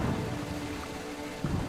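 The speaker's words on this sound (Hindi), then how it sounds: "तेज बारिश" Heavy rain falls in the Amazon rainforest as a dense, constant wash of droplets with a low rumble underneath, loud and unbroken throughout.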